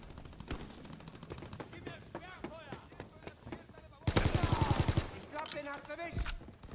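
Gunfire in Call of Duty WW2, scattered single shots under players talking, then a loud rapid burst of automatic fire, followed by more shots and chatter.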